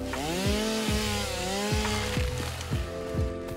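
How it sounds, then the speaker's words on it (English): A chainsaw in the video game Satisfactory clears a bush, with several rapid revving strokes and pitch dips in close succession, loud and continuous without speech. "Chainsaw to a bush."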